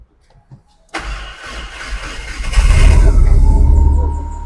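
A car with a manual gearbox cranks, fires and settles into a running rumble nearby, growing louder as the engine revs up a little after starting.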